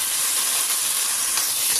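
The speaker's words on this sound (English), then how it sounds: "Just pan searing it." Shrimp and chicken sear in a hot pan on a stove set between medium and medium-high, giving a steady, close sizzling hiss without talking.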